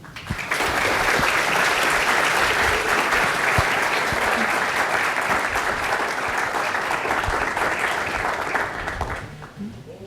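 Audience applause welcoming congressional panel guests Tulsi Gabbard and Will Hurd at a constitutional discussion event, a steady, loud, full-room clapping that swells quickly and holds for about nine seconds before tapering off.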